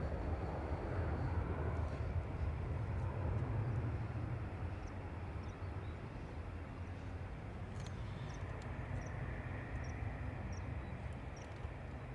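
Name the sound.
ATR turboprop airliner at Dublin Airport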